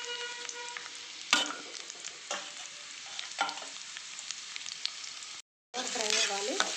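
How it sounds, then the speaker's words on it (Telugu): Sliced onions and green chillies fry in about four spoons of hot oil on a stove for egg fried rice, giving a steady close sizzle with bursts of stirring scrapes and a brief silent gap near the end. "ఉల్లిపాయలు ఫ్రై అయ్యాయండి"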